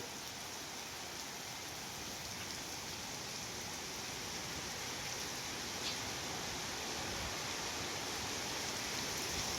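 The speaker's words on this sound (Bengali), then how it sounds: "বৃষ্টির পানি কোথা থেকে কোথায় চলে যাচ্ছে।" Heavy rain pours steadily through a night thunderstorm, with rainwater running off a building with a rooftop; the wide, even hiss of falling and flowing water stays constant and fairly close throughout, with no talking.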